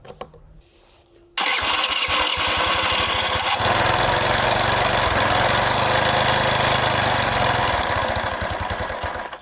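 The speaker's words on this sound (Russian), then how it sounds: "Неплохо, двигатель начал запускаться, и появился намек на холостой ход." A carburetor engine with a fault that stalls when throttle is added and backfires into the carburetor: after a brief quiet start it suddenly fires and catches, then settles into a loud, steady, slightly rough idle.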